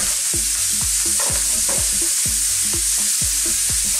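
Leftover marinade sizzles hard in a hot pan with burnt lamb drippings, a steady frying hiss broken by regular, close scraping stir strokes roughly every half second.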